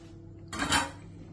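Chopped carrots are tipped into an Afghan kazan holding meat and potatoes, making one short, bright rattling clatter against the metal pot.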